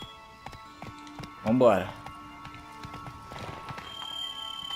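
Roach the horse galloping in The Witcher 3, hoofbeats thudding in a steady clip-clop under a voice, with a brief whinny-like burst partway through.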